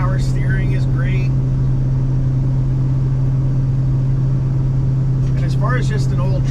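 A 1976 Ford F250 Highboy pickup truck on the road, its old engine giving a steady, loud low drone throughout, with someone talking over it near the start and the end.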